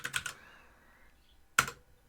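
A few quick keystrokes on a computer keyboard, a short cluster of clicks followed by a pause and then one more sharp tap, close and clear in a quiet room.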